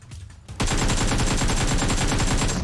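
Automatic rifle fire in PUBG Mobile, loud and close, a sustained fast burst of evenly spaced shots that begins sharply after a brief quieter lead-in and runs without a break to the end.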